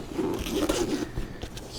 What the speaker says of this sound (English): behind this pocket inside, there's another zipper pocket